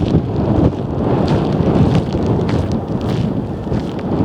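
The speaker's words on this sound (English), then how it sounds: "because it's a big strong westerly wind" Strong westerly wind roars and buffets the microphone beside a golf course and caravan park on Anglesey, a steady loud rumble that holds throughout with no talk.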